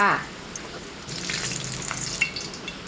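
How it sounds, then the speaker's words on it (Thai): An egg dropped into hot oil in a pan for a Thai fried egg, breaking into a sudden crackling sizzle that holds steady and bubbling for a few seconds, near and without speech. "พอน้ำมันร้อนนะคะดาวไข่รอเลยค่ะ"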